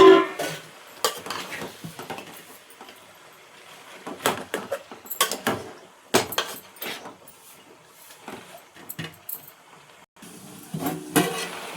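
A spoon scraping and clanking in a cooking pot while food is stirred, irregular metallic knocks and scrapes in bursts with quiet gaps between them, close and fairly clear.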